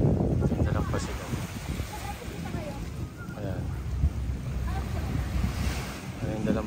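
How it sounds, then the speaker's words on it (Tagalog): Ocean surf rolls continuously on the beach at Subic, Zambales, with steady wave wash and gusty wind noise buffeting the microphone close up. "Ito yung dagat guys."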